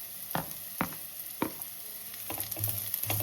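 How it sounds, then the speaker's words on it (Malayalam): Crushed dried red chili and browned onions frying for a beef fry: a steady, hissing sizzle in a pan, broken by a few sharp spatula taps and scrapes, close and alone without any talk. "ഉണക്കമുളക് ചതച്ചും കൂടി ഇട്ട് കൊടുക്കാം."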